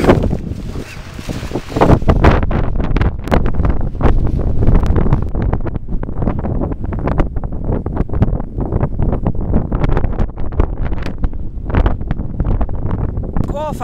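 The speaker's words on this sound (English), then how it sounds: "the key is blowing snow" Blizzard winds with blowing snow roar and gust hard against the microphone for the whole stretch, a loud, rough, continuous rush, in Williston and Watford City, North Dakota.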